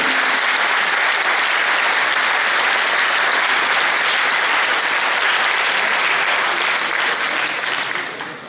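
A large audience bursts into dense, loud applause for four honoured women at a public address, sustained and even for several seconds before tapering off at the end.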